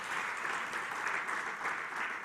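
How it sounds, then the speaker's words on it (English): A round of applause for teachers at the Wavumbuzi Grand Awards ceremony, an even, moderately quiet wash of many hands clapping that sustains throughout without any voices. "I would want all of us to give a round of applause to our teachers who took the leap"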